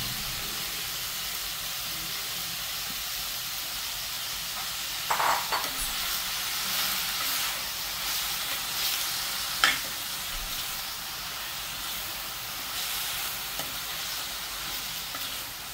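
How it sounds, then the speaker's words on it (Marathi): Spinach sizzles steadily after being added to a frying pan for palak bhaji, with a continuous close hiss and a couple of brief stirring clatters midway, no talking. "आणि आता ह्यामध्ये मी पालक घालते।"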